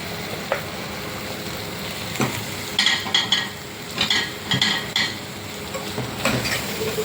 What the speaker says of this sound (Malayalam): നമ്മൾ അരച്ച് വെച്ച അരവ് ഇത് ഇതിനകത്തേക്ക് ഒഴിച്ചു കൊടുക്കാം.